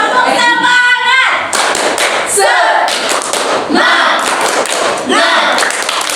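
A classroom group claps hands in quick rhythmic bursts during a cheering routine, with sharp overlapping slaps and voices chanting along between the patterns.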